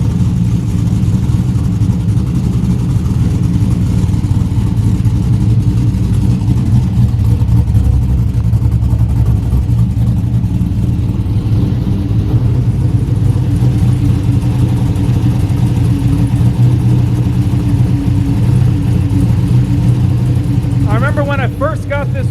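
A 1972 Buick Skylark engine runs steadily close by, a continuous low rumble with a slight ticking texture and no revving, while a person talks over it.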